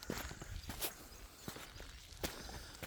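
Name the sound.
footsteps walking in an abandoned quarry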